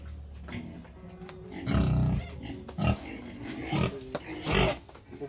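Pig on a Filipino farm giving several loud grunts and squeals in irregular bursts, close by, with faint background noise between them.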